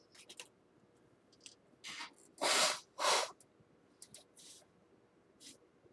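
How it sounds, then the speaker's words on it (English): A few short, forceful bursts of breathy noise, like a nose being blown, loud and close, between quieter rustles and clicks. "I got to blow my nose."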